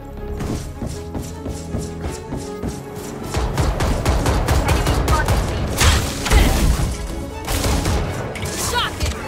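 Gunfire in the video game Valorant, a steady run of rapid shots and thuds with louder bursts around the middle and end, mixed with game music and sound effects.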